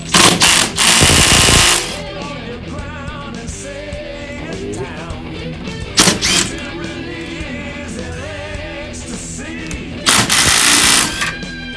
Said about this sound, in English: Using my drill.